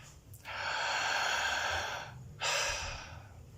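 Deep breathing during a breath work meditation, one long, loud, airy exhale followed by a shorter second breath, close to the listener with no talk.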